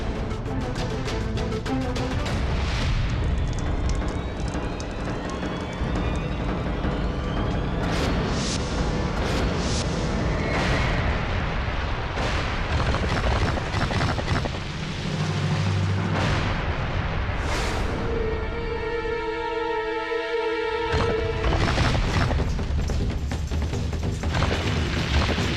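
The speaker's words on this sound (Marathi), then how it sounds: "धमाके की आवाज सुनी?" Explosions in a historical Marathi television drama: heavy booming blasts rumble repeatedly over about twenty-five seconds, loud and dense, layered with a dramatic musical score and sharp bursts.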